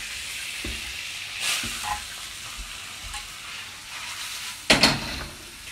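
Onions frying in a pan, with a soft continuous sizzle broken by occasional stirring scrapes and a louder clatter near the end.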